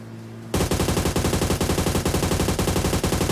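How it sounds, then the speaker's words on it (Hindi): Rapid automatic gunfire in a shooting video game starts abruptly after half a second of quiet and keeps up a loud, dense, steady stream of shots to the end. "कोई और भी फायरिंग कर रहा है जो कि मेरे को दिख चुका है सामने पहाड़ी पे"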